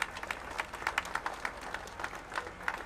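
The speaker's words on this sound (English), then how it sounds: "So give all of that a round of applause." Sparse, fairly faint clapping from an audience at a topping-off ceremony for the Kentucky International Convention Center in Louisville, scattered irregular claps with no voices over them.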